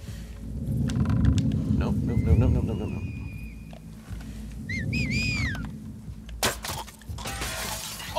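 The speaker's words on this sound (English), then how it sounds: "Oh, she fell into the glass." In The Last of Us Part II, glass shatters in one sharp, bright crash as an enemy falls through a pane, following a stretch of low rumbling ambience and scattered in-game tones.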